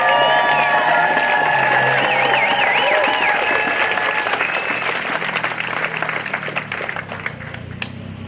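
Crowd of protesters outside Barrie City Hall applauding and cheering, a dense sustained wash of clapping with whistles and shouts, loud and close, slowly easing toward the end.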